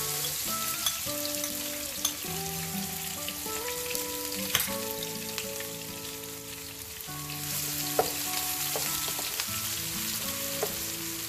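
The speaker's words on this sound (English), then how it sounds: "Let it cook for a few minutes. Now as the paste is getting cooked" Spice paste with a pinch of asafoetida fries in a pan for an Undhiyu dish, giving a steady close sizzle with scattered pops and a few clinks, and no voices heard.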